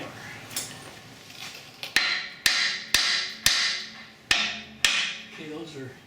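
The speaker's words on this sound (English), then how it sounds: "Hammer." A hammer strikes metal seven times in a slow, uneven rhythm while a 2011 Cadillac SRX strut is replaced, each hit sharp and ringing before decaying, up close in a garage.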